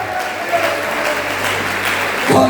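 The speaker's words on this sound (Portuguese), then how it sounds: "Aplaude a presença de Jesus que está nesse lugar." A church congregation at a Thursday evangelical service applauds in worship, sustained close clapping from many hands with a low steady hum beneath and a brief sung or spoken tone near the end.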